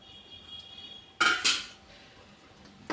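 Fried vegetables tipped into a pan of thick white sauce for pasta, giving one sharp burst of clattering utensil and pan contact followed by a second clank, then quiet stirring sounds at low level.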